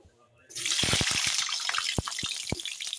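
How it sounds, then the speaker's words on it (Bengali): Potato pieces hit hot oil in a pan along with ginger and chillies, setting off a sudden loud sizzle and crackle that carries on with scattered pops. "আলুটা ভেজে নিচ্ছি।"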